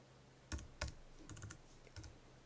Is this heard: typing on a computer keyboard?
yes